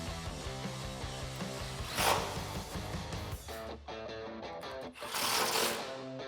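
A 10mm socket on a swivel ratchet tightening exhaust bolts during a Magnaflow dual exhaust install on a 2015-2021 Ford F150 5.0L, making a rapid buzzing ratchet clatter over steady background music.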